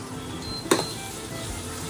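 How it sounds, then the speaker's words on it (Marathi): Garlic tossed into hot oil over cooked onions for a mutton liver (kaleja) fry gives a sudden, loud sizzle that flares briefly and then settles into a low frying hiss. "त्याच्यात आपण आता लसूण टाकून घेऊया"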